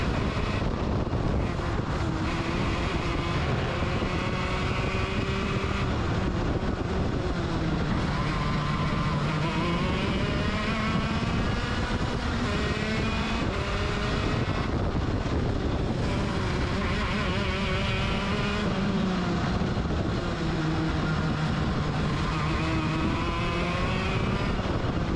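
Racing kart engine on a lap around a track, a loud buzzing whine that rises and falls steadily with throttle and shifts through corners, under heavy wind rush, continuous for the whole stretch with no talk.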